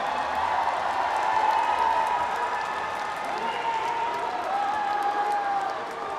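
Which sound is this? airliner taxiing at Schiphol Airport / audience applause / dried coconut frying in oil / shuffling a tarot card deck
audience applause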